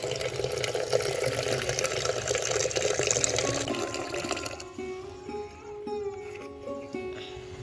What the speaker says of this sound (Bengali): চলো সকাল সকাল দিয়ে দিই গাছে জল